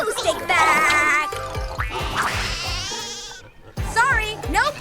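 Cartoon sheep bleats rise over a bouncy, busy farm-scene soundtrack, several wavering cries in a row, with a character talking between them.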